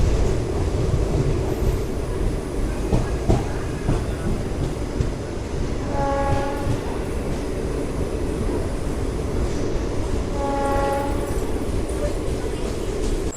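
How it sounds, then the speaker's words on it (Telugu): An SF Express train on the Cherlapalli to Chennai Central route pulls out of Nalgonda station with a steady, loud rolling rumble, broken twice by brief tonal whistles, while a voice talks. "ట్రైన్ వచ్చేసి నల్గొండ నుంచి అయితే బయలుదేరిపోయింది"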